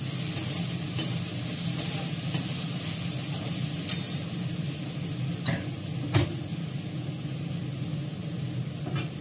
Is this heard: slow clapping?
no